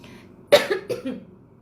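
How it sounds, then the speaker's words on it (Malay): A short burst of coughing, three quick coughs close by, the first loudest, in an otherwise quiet space. "Batuk-batuk"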